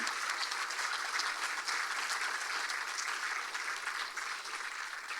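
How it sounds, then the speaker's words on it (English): Applause from an audience for contestants at a fall festival pageant, a dense, even patter of clapping sustained throughout, moderately distant. "please give them another huge round of applause for what they've done tonight"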